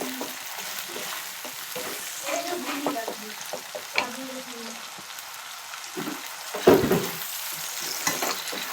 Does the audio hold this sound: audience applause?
no